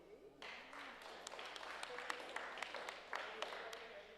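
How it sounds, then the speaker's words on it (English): Faint applause for certificate recipients at a recognition ceremony, scattered hands clapping at a distance with sharper individual claps standing out, voices murmuring underneath. "Please give Uncle Frank a round of applause, too."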